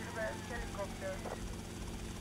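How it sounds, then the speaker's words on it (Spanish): A helicopter in the video game GTA Vice City drones with a steady rotor whine and hum, moderately loud, while someone talks over it. "aquí el chiste es recoger un helicóptero"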